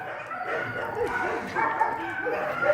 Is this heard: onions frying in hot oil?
no